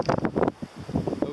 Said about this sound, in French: Ok, là, il y a une risée.